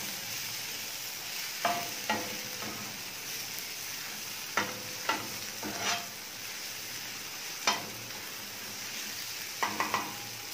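Onion, tomato and crushed coriander are stirred on a hot tawa, a continuous low sizzle broken by scattered sharp scrapes and taps of the spatula against the metal, close and moderately quiet, with no talking.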